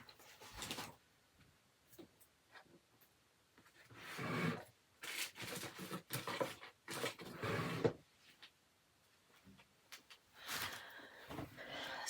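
Drawers and cupboard doors knock, slide and thud in short irregular bursts while belongings are tidied away into a blue drawer, close and fairly quiet with gaps of silence between.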